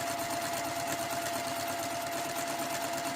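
A sewing machine stitches fabric for a fat-quarter valance, a continuous fast mechanical whir with a faint steady tone, close and even throughout with no talking.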